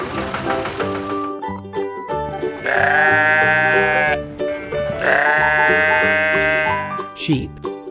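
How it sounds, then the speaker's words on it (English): Cartoon-style sheep bleats from a children's farm-animal learning song, two long wavering bleats sounding over a steady backing of nursery music. "Sheep."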